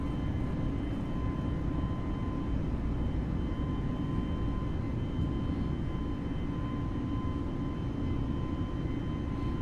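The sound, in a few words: A320neo engines climbing after takeoff in a flight simulator video game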